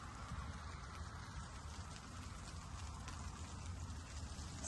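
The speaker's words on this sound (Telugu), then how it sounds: "స్టార్ట్ అయింది వర్షం" Rain falling steadily outdoors during a week of heavy showers, a dense, even patter of drops on surfaces with no voices, constant and fairly close throughout.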